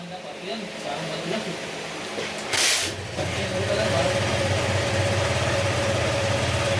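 Car engine idling steadily after repair work, a low continuous rumble close by, with a short hiss burst partway through and a voice speaking over it.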